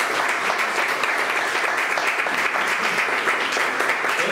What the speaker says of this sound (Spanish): Tengo un aplauso, pues.